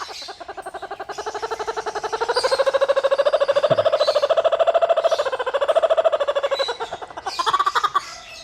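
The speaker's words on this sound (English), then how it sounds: "Here's a kookaburra." An Australian kookaburra calls in a long rapid rhythmic run of cackling notes that rises and falls over several seconds, loud and close with no talking.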